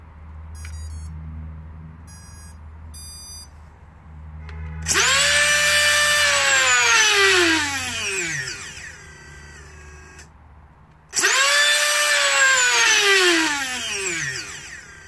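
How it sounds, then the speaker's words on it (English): A Nerf Stryfe blaster's modified motor with braking enabled revs up with a loud rising whine and then spins down in a falling pitch sweep, twice, with brief electronic beeps at the start. "I'll swap it over to the other motor, which has the"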